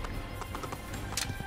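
In the Assassin's Creed video game, a horse's hooves clip-clop faintly while it is ridden, with a brief whinny near the end, all low in the mix.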